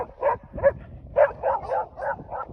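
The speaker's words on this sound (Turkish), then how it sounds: "Bu köpek de bizi korumaya çalışıyor." A dog gives a run of short, yelping barks, about eight in quick uneven succession, close by.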